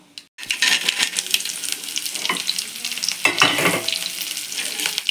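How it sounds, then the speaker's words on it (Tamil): Onions sauté in a pan with a little dried chilli for a drumstick leaf (murungai keerai) stir-fry: continuous crackling sizzle and repeated spatula scrapes and stirring, close up, with no talking. "வெங்காயத்தை நல்லா வதக்கிடணும்."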